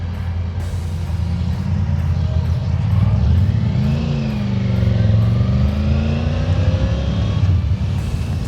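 A Triumph Tiger 900 GT Pro motorcycle engine drones steadily while riding, with pitch rising and falling through gear changes and wind rushing over the microphone.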